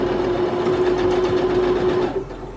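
A sewing machine stitches a fabric scrunchie with a steady, loud, close mechanical hum and rapid needle chatter that runs continuously before easing off at the end.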